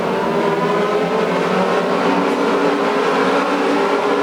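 1934 Ford Coupe race cars run on a racing track, their engines making a loud, continuous roar that holds steady and fills the scene without voices.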